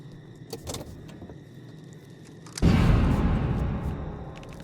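A car in the video game Alan Wake's American Nightmare gives a few clicks and door clunks. A loud, steady engine rumble then starts abruptly and carries on to the end.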